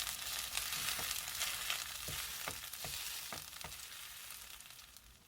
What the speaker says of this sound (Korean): 불은 계속 중불로 해주시고요. 앞뒤로 노릇노릇하게 맛있게 부쳐주세요.